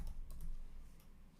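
Typing on a computer keyboard, a few quick faint key clicks in the opening half second, then another near one second, over a low background hum.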